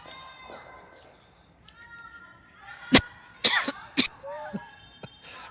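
Several sharp coughs, three or four loud bursts close together, break into quiet background talk.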